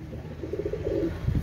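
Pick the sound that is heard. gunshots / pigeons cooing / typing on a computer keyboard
pigeons cooing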